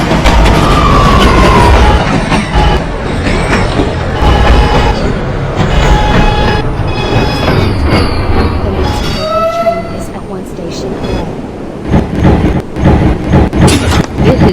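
Subway A train running late nights on the C line in a train video game, a steady loud rumble of wheels and motor throughout with brief squealing tones and a horn-like pitch, automated announcement-style voice partly audible.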